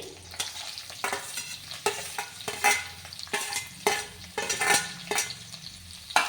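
Onion fries in a pan with chopped bottle gourd, a soft sizzle under regular spatula strokes that scrape and tap against the pan every half second or so, close and fairly quiet.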